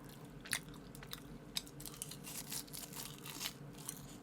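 Close, soft chewing and crunchy bites on a pork belly lunch box, with irregular crisp clicks and moist mouth sounds spread through a quiet room.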